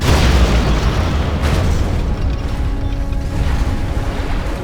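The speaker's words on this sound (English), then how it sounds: "Arming cruise missile." A loud, close, rumbling blast from a cruise missile launch and explosion in Command & Conquer: Generals, a deep boom that rolls on steadily for several seconds.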